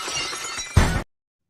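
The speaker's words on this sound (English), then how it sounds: "if you hear the breaking glass" A loud glass-breaking sound effect: a sudden bright crash of shattering glass with scattered tinkling, cutting off abruptly into silence after a brief noisy lead-in.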